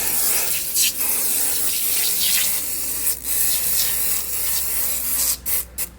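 Repeated hissing bursts of a spray bottle of Moto Max cleaner mixed with steady rubbing and wiping on a hard motorcycle helmet surface, close by, with no talking.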